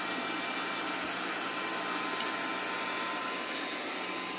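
An M2 3D printer purging old filament gives off a steady mechanical hum and whir with a continuous broadband hiss, close and even throughout, with no talk.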